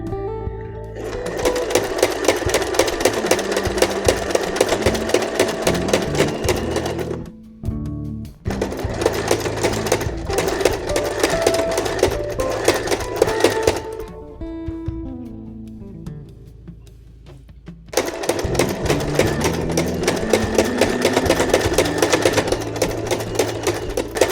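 A Janome sewing machine runs at a steady normal speed, its rapid even needle clatter close and loud, stopping briefly twice before resuming.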